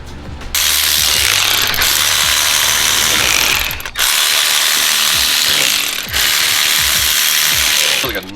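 A power ratchet loudly whirs and rattles as it spins off the exhaust manifold bolts on a 2JZ-swapped FRS, in three long bursts separated by brief pauses, close up and without talking.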